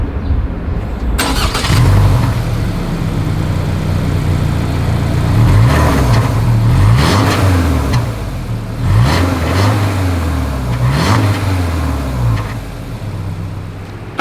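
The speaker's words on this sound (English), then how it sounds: "As always, here is that exhaust clip." A 2025 Subaru Forester engine revs repeatedly through its exhaust, deep throaty bursts rising and falling over a steady idle, loud and close, with no voices.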